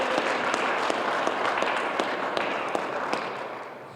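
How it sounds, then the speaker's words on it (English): Applause at a brownfields fund award celebration, a sustained crowd clapping with a few sharper individual claps standing out, even and fairly loud throughout. "A round of applause for that."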